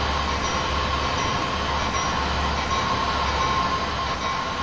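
A train runs steadily with a continuous, loud low rumble and rolling wheel noise, a faint high tone riding above it, without letting up.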